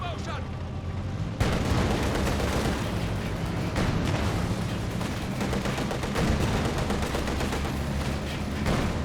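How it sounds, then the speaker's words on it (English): Company of Heroes 2 battle gunfire, with a T-70 tank firing on Volksgrenadier infantry amid a dense, continuous roar of shots and explosions after a quieter opening, loud and sustained throughout. "T-70 firing away, gets some good shots there again on the Volks Grenadiers"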